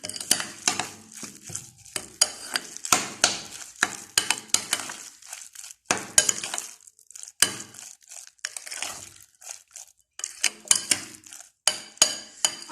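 Mayonnaise sandwich filling being mixed with a spoon in a bowl, irregular close scraping and soft clinking strokes with brief pauses between bursts.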